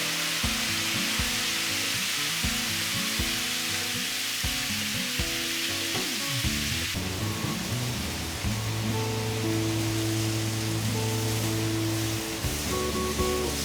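Lamb chops in a balsamic marinade sizzle on a very hot grill, a constant loud hiss and crackle that runs throughout, with some background musical tones but no speech.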